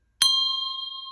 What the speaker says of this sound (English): thank you for adjusting your ears to keep them safe as I ring the bell